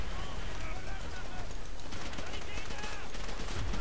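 Rapid MP44 assault rifle bursts in Call of Duty: World at War, dense sustained gunfire with a busy game soundscape and some speech mixed in.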